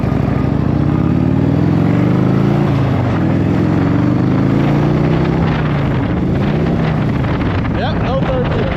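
A 1984 Harley motorcycle rides in low gear, its engine note rising and falling under heavy wind buffeting, with a voice speaking over it.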